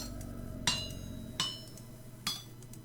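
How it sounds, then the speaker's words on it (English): Three sharp metallic hammer strikes ring out on an anvil during metalworking in the video game Vintage Story, evenly spaced about a second apart over a steady low ambient hum. "we're going to hammer this out"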